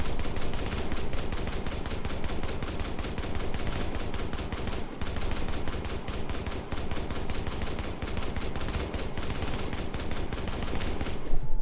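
An M60 light machine gun fires in The Division in long, rapid-fire bursts of loud gunshots that run almost without a break, with no talk.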